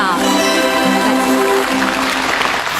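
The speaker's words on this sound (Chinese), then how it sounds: "我们掌声有请范派小生张瑞红。" Applause greets a Fan-school xiaosheng Yue opera performer as he comes on stage at a televised interview show, a steady dense clapping mixed with tonal voices or music throughout.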